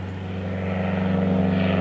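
Propeller airplanes drone steadily overhead above a flower garden, a continuous low engine hum that swells slightly louder as the aircraft pass, with no talking.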